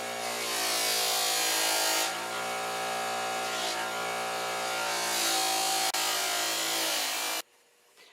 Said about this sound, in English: Don't buff the leading edge or else it will flip it right out of your hand